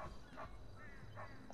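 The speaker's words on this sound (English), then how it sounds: "Oh, puppy dog." A dog in the video game GTA 5 gives a few short, soft barks and yips, spaced apart over faint background noise.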